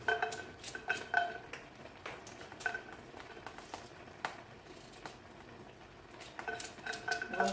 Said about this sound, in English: just chop my carrots right in here